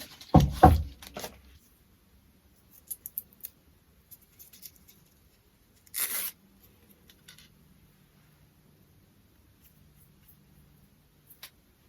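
Scissors cut through fabric for a fabric collage of a tabby cat, giving a few scattered, quiet snips with a louder rustling cut near the start and another around the middle, separated by near silence.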